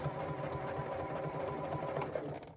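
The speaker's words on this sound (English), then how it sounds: "And I'm going to sew up to this line, but not through my exterior." A sewing machine runs steadily while stitching a foldover crossbody bag, stopping short of the exterior topstitching line, a continuous close whirring motor hum with rapid needle rhythm throughout, no talk.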